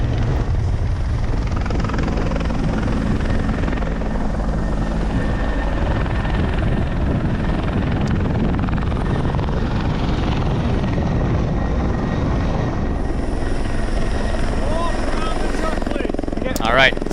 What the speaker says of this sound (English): Starting to feel the headwind there from the helicopter.